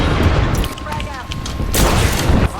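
A frag grenade explodes in the battle royale shooter Apex Legends, with heavy booming blasts and broadband bursts near the start and again toward the end, set against dense game noise while voices talk over it.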